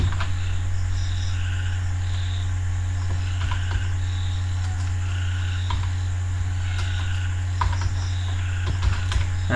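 Typing on a computer keyboard in MS Word: light, irregular key clicks in short bursts over a steady low electrical hum, with no talking.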